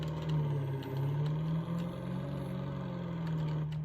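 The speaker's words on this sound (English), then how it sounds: "Definitely sounds like an old truck, but it sounds really good." An old truck engine idling in the Farming Simulator game, a steady low rumbling drone with a faint mechanical whine above it, even and continuous throughout with no talk.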